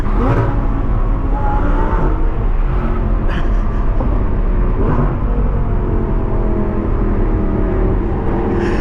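An Audi R8 V10 fitted with an IPE exhaust pulls hard on a night drive, heard from inside the cabin as a loud, continuous engine roar whose pitch climbs and shifts across several gear changes.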